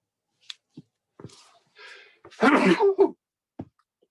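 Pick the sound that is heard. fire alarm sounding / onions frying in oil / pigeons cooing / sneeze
sneeze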